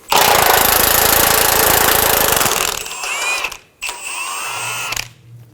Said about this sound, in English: Using a 15mm socket, remove the two tow hook bolts.